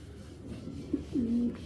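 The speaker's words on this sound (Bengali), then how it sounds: "এখানে কিন্তু দুইটাই বাঘা কবুতর" Soft, low pigeon coos sound close by, a short murmur followed by a longer rolling coo, against quiet background noise.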